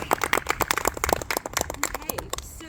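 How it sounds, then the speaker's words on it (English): A small group claps for a girl receiving a Girl Scouts Silver Award, a brief burst of close, uneven hand claps with voices talking through it. "We're going to give you a big round of applause."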